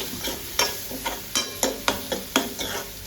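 Masala fries in oil over a low gas flame for masala Maggi with a soft, continuous sizzle. A spoon stirs it in regular strokes, and each stroke gives a faint scrape about twice a second. No one speaks.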